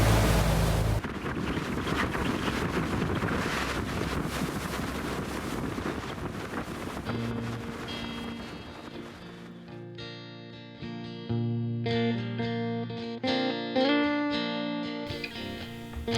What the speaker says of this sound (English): The wind was up on the Strait and it was a little lumpy